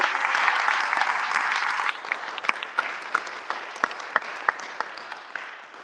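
Audience applause at a James Baldwin celebration honoring a literacy book club starts as a full, even wash of clapping, then thins into scattered individual claps that ring out separately before dying away.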